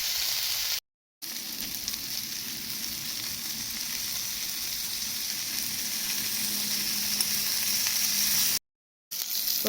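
Shrimp frying in a pan over high heat, a loud steady sizzle close by, broken by two brief silent gaps.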